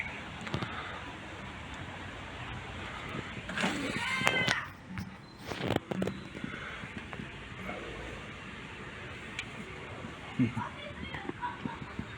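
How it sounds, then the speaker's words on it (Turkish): A cat meows faintly a few times amid steady outdoor background noise and rustling. "Yeni bir kedi."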